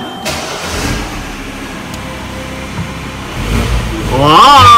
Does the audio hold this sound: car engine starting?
yes